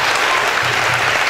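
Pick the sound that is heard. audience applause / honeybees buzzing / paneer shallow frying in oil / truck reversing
audience applause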